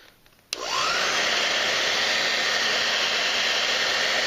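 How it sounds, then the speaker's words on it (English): A hair dryer on its cool setting switches on with a click and runs as a loud, steady, close-up whoosh of blowing air without a break. "So now I'm going to turn the hair dryer on cool."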